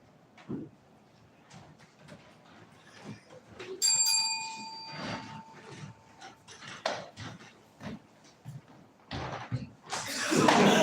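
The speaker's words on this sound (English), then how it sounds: "I heard a bell." A single bright bell rings once and hangs with a sustained ringing tone during an improv comedy performance, surrounded by thuds, footsteps and a dog's whimpers, then a burst of noise near the end.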